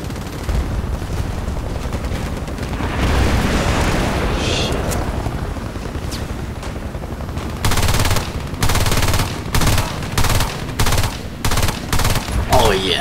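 Gunfire in a video game shooter, dense rumbling battle noise followed by loud bursts of rapid automatic fire in repeated short volleys, with a voice talking over it.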